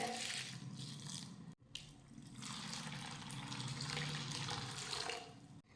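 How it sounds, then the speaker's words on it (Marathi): Water runs steadily into a bowl of sago for several seconds, with a brief break partway through, then pours on continuously and fairly close. "आता यामध्ये पाणी घालूयात"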